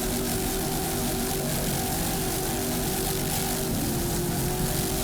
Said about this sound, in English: Nice throttling there by Rich Wyatt from Boca Raton, Florida.